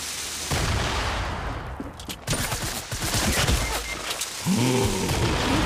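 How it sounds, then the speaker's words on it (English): A grenade detonates in Fortnite amid rapid gunfire, with a dense, noisy burst of shots and booms running through most of the clip, closing on a loud final blast. "I killed him with the nade"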